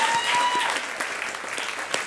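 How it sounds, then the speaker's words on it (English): An audience at a student union question-time event gives a steady round of applause, a dense continuous patter of many hands clapping throughout, fairly close and even in loudness. "Can we get a round of applause, first of all?"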